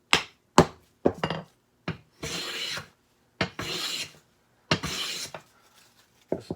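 Wooden coffin smoother hand plane taking thin shavings from a wood board, a series of close crisp rasping strokes, some short and some longer, with quiet gaps between them.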